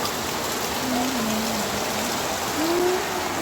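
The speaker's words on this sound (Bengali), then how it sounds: "দেখ বৃষ্টি পড়তেছে।" Steady rain pours down in Gazipur, Bangladesh, a close, even hiss that never lets up, with a few faint tonal calls rising briefly above it.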